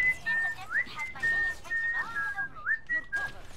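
A person whistles the tune of a song in a series of short held notes and quick upward slides, close and fairly loud, with chatter and background game noise around it.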